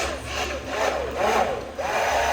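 A blender whirs through milk and honey with a coarse, grinding roar that rises and dips in steady waves, close and continuous.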